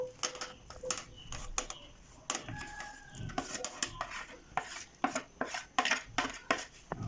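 Chicken sautéed in a little oil in a pan for chicken sisig, with a soft sizzle under repeated scraping and clanking of a utensil against the pan, growing busier toward the end.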